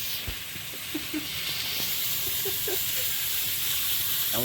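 Cauliflower pieces fry in fish oil in a home kitchen, giving a steady broadband sizzle and hiss with scattered pops and brief faint voices in the background.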